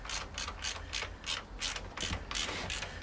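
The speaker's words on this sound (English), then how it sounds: "Me grabbing the rear axle nut off" A ratchet clicks in quick rhythmic bursts while loosening the rear axle nut on a Royal Enfield Meteor 350 motorcycle, close and moderately loud, with several pulls in a row.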